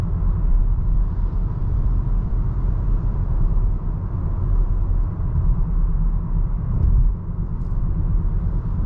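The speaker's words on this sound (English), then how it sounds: "Turn the HVAC off for a second so you can hear how quiet it is in here." Inside a 2022 VW Taos S on the road with the climate control off, the cabin holds a steady, subdued low rumble of road and engine noise, even throughout with no voices.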